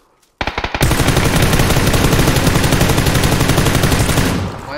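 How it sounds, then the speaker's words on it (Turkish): Sustained automatic gunfire in PUBG on the Sanhok map, a loud rapid burst of shots that starts abruptly and runs steadily for about four seconds before trailing off. "Alttakine sıkıyorum."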